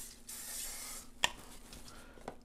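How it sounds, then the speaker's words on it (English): Cooking spray hissing from a can onto a waffle maker in a short close burst, followed by faint clicks and taps. "spray your waffle maker down"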